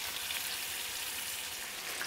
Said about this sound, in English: It should sizzle immediately. Sizzling, sizzling.